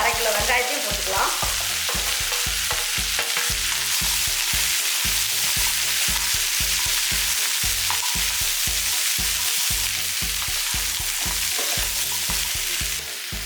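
Ginger and half a kilo of small onions sautéing in oil for mutton curry, a loud steady sizzle with a rhythmic stirring scrape repeating throughout, close up and with no talking.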